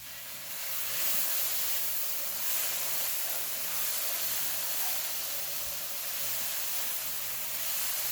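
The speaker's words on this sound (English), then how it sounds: "And then we're going to stir this up" Ground turkey sloppy joe mixture with brown mustard hisses and sizzles steadily in a hot pan as it is stirred, a close, continuous spitting fry with no voices.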